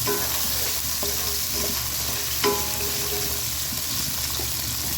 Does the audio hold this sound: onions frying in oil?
yes